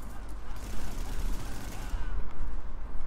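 Rapid bursts of gunfire in The Division pop in quick succession under a low rumbling bed, moderately loud and fairly close, with voices over the shooting.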